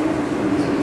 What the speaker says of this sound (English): If you hear anything in the background, this is the subway.